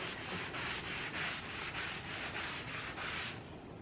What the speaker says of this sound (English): Every couple swipes or so, I just grab some more on my pad and then work it into the wood.